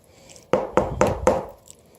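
Spoon folding ingredients through a thick homemade bread batter in a bowl, giving four close, soft thuds at even intervals, each followed by a short wet scrape, with no talking.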